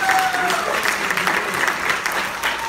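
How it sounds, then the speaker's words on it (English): A brief burst of audience clapping follows a musician's introduction at a talk on Quelbe music of the Virgin Islands, steady and moderately loud throughout the short stretch. "So please give him a round of applause."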